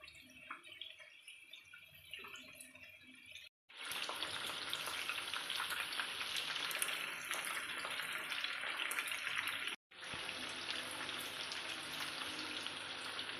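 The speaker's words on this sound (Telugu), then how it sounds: "మీడియం ఫ్లేమ్లో పెట్టి ఫ్రై చేసుకోవాలి" Chicken pakoda frying in oil on a medium flame, a steady close crackling sizzle that starts softer, swells louder after a brief cut and continues with two short silent gaps, with no talk.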